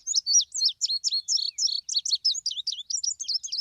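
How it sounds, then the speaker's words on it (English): An indigo bunting sings a bright, high, rapid song of sharp chirping notes, many in pairs, running continuously and close with no other sounds. "and I love the song of the indigo bunting."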